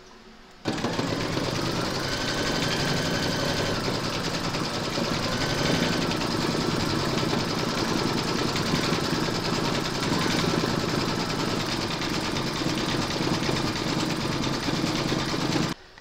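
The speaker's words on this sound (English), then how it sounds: "Load your white thread into your machine and then you're going to stitch round number 6" An embroidery machine stitches white thread for the eyes of a large turkey applique on a quilted placemat. It runs loud and steady without a break for about fifteen seconds, with a fast, even mechanical hum.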